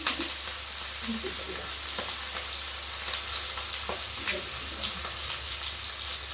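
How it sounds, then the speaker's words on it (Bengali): Chopped onion sizzles as it fries in a pan, giving a constant close crackling hiss with occasional light stirring clicks and scrapes, and no voices. "এখন দিয়ে দিলাম পেঁয়াজ।"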